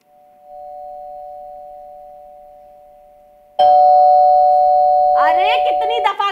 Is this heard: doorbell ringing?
yes